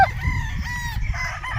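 A gamefowl rooster crows once on the J & J 3 Kings farm, a close, loud, strained call over low background noise, with no talking.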